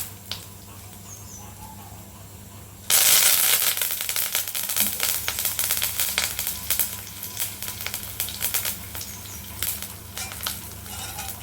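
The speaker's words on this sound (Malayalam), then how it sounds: "വെളിച്ചെണ്ണ ഒഴിച്ച് നമുക്കൊന്ന് കടുക് വറുക്കാം" After a few quiet seconds, hot coconut oil bursts into loud sizzling, with mustard seeds crackling and popping rapidly, then the sizzle slowly eases.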